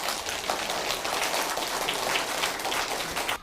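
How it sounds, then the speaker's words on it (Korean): Audience at a hospital dementia lecture applauding two hospital directors, a thick, rain-like wash of many hands clapping at once, sustained and even for several seconds, heard alone with no voices. "두 분 원장님께 큰 박수 부탁드릴게요."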